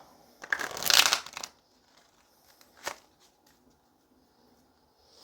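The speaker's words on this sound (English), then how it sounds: "Let's go ahead and pull some Romance Angels cards." Romance Angels oracle cards are shuffled in one loud, close riffling burst, followed by a faint snap as a card is pulled amid near silence.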